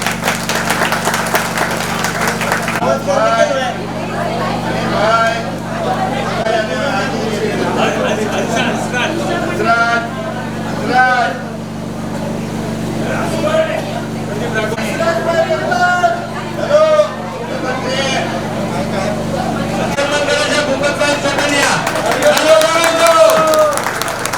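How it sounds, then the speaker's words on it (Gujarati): Audience clapping in a hall at a community honoring ceremony during a Ram Katha gathering, a steady sustained wash of applause mixed with crowd babble and voices over a low droning background hum. "તો તાળીઓથી વધાવી દેજો બધાને"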